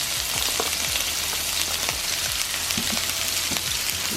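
Chopped onions and green peppers fry in a skillet with a steady, close sizzle and scattered crackling pops, heard alone throughout.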